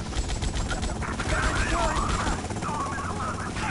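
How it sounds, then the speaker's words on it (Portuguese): Rapid gunfire bursts from a helicopter attacking the player in GTA Vice City, a dense crackling fusillade mixed with game noise and a faint voice in the background throughout. "helicóptero atirando em mim?"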